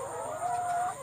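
Laying hens in a coop give a short, close cluck with a sustained tonal cry, heard alone over a steady background hum.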